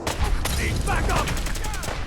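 Rapid bursts of gunfire ring out in a Fallout 4 battle, with a close, loud, dense fusillade of repeated shots and a voice calling out over the shooting.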